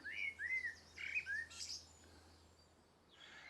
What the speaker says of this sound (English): I've been sitting listening to this blackbird for the last 5 minutes.